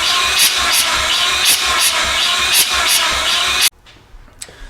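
Mazda 13B rotary engine turning over on the starter during a compression test, a loud, close, steady rhythmic cranking pulse for several seconds that cuts off abruptly, leaving faint background noise.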